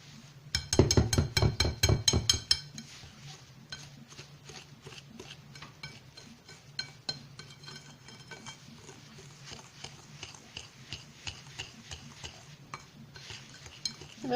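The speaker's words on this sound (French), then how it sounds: "Et je mélange, comme je dis tout à l'heure, au fur et à mesure, petit à petit." A spoon scrapes and clinks against a pot while semolina halwa is stirred with butter. A loud, fast burst of clattering strokes at the start gives way to slower, quieter, irregular scraping.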